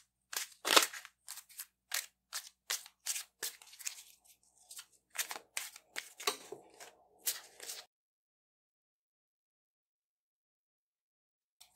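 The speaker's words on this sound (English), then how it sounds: "Some cards fell. Let me pick them up." Tarot cards are gathered and picked up after spilling: a quick string of close, crisp card flicks, slaps and rustles for about eight seconds, then silence.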